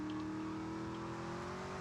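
A car engine revs steadily in the GTA Liberty City Stories video game, a sustained droning hum with a rising whine, close and continuous for a couple of seconds.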